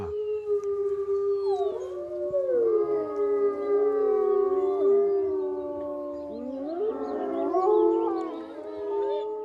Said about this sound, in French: Leurs hurlements s'entendent à plus de 6 km et ils reconnaissent ceux des membres de leur meute.